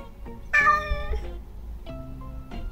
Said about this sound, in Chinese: 喵喵喵，这就是猫的叫声。